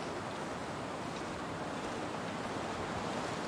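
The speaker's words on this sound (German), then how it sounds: "Es ist laut und windig." Wind roars steadily through the snowy wilderness of the survival video game The Long Dark, a continuous broad rushing noise with no voices over it.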